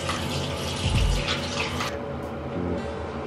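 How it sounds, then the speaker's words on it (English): Water runs steadily from a tap to rinse a skincare device, a continuous close splashing hiss with a brief heavier gush early on, with no talk over it. "and we're gonna rinse it off."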